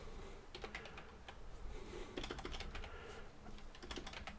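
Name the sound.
typing on a computer keyboard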